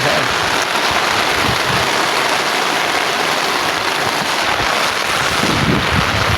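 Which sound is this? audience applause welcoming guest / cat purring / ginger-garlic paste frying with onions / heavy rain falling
heavy rain falling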